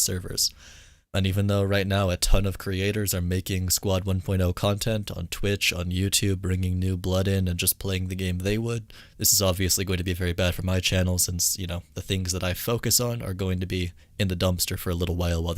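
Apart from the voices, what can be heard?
None of the usual background noises is heard.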